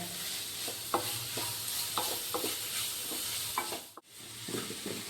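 Onions sautéing for cutlet and egg bajji in a pan, a steady close sizzle broken by repeated scrapes and stirs of a spoon against the metal, with a brief pause near the end; no voices.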